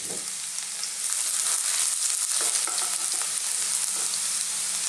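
Garlic frying in hot oil in a frying pan for Filipino chicken heart adobo makes a loud, dense, continuous sizzle, close up, with faint stirring clicks and no talk.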